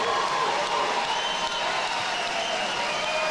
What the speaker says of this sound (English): please, a massive round of applause for a fantastic fight